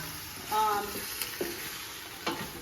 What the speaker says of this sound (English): So what I have in here is mirepoix, a little olive oil.